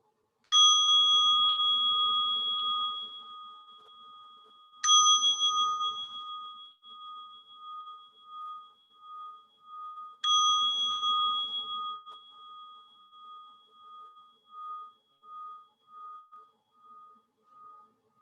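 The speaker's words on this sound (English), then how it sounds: "I'll be inviting 3 sounds of the bell to" Three clear strikes of a meditation bell, spaced about five seconds apart, each a bright ringing tone that decays slowly with a long pulsing hum in a quiet room.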